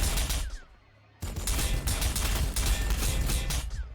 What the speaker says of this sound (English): But it's mostly just bolter fire.